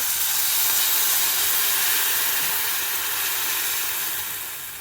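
Tamarind water poured into a hot pan for tamarind pulihora, giving a loud, continuous close hiss of steam that eases off slightly toward the end.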